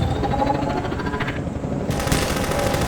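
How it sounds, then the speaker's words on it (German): Gunfire from the video game Half-Life 2 rattles in rapid automatic bursts, loud and continuous across the whole stretch, with no voices over it. "Da hinten hat es noch ein bisschen Schüsse."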